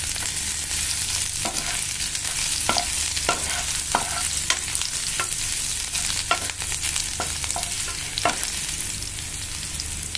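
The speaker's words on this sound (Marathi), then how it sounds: "आता इथे आपलं तेल गरम झालेलं आहे, त्याच्यामध्ये आपण हा आता लसूण घालूया।" Garlic frying in hot oil for a prawn masala, a dense steady sizzle punctuated by sharp scraping taps of a stirring spoon against the pan.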